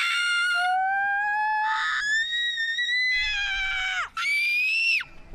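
Children imitate a screaming whistling firework with long high-pitched shrieks that glide upward and then drop sharply, several loud voiced wails in a row heard close and alone.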